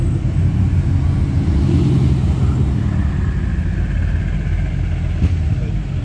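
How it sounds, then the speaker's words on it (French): A Mercedes-AMG GT R sports car arrives on a street lined with luxury cars, a continuous deep engine rumble with road noise, loud and steady throughout. "Là, on a la très méchante AMG GTR qui arrive."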